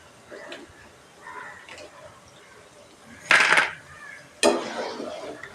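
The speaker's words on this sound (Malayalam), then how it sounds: "ഇനി നമുക്കിത് കോരിയെടുക്കാം." Fried chips scooped out of hot oil with a metal utensil, two sharp close clinks and scrapes against the pan over quiet sizzling, with faint talk in the background.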